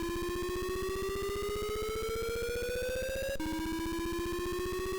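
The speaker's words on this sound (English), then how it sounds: "Okay, so that's the alarm clock." A BASIC alarm-clock program on a Color Computer emulator sounds a loud, continuous electronic alarm of rapid pulses, its pitch rising steadily and then resetting to repeat.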